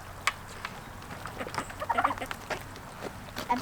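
Chickens cluck and chatter quietly nearby with a few soft squawks and scuffling, scattered irregularly over low background noise.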